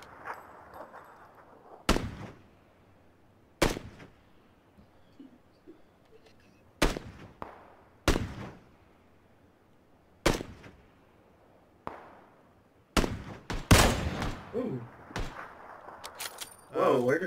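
Sharp gunshots ring out in an online shooter game, single cracks spaced a second or two apart, then a denser cluster of shots near the end, with quiet stretches of background between them.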